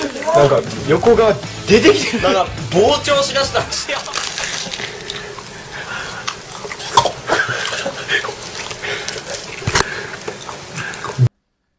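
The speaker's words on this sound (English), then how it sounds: "Here's a Japanese man deep frying and attempting to eat a PSP." A PlayStation Portable handheld console is deep fried in hot oil, giving a steady crackling sizzle that runs throughout, with a voice talking over the first few seconds.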